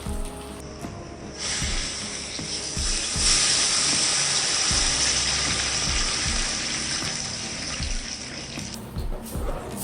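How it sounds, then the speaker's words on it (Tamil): Coconut milk poured into a pot of fried ginger and garlic while making coconut milk rice, a steady rushing, hissing pour that lasts several seconds before tapering off, with faint low knocks underneath. "இப்போது தேங்காய் பாலை சேர்த்துடலாம்."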